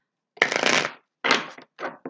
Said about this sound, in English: one more shuffle, and let's get this going.